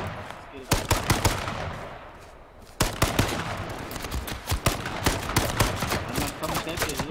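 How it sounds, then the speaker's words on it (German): Rapid bursts of video game gunfire from both sides, loud and dense, with sharp repeated shots and automatic volleys after a brief lull. "Die schießen mich von beiden Seiten an!"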